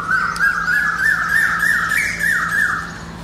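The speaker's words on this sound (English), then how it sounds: "I wonder if you can hear that bird." A bird squawks loudly and continuously nearby, a harsh wavering call that holds steady for several seconds, with no talking over it.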